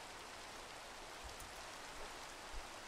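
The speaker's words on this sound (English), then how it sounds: "It's raining and we got a lot done" Rain in the video game Minecraft falls as a steady, soft hiss, faint and even throughout with no talking.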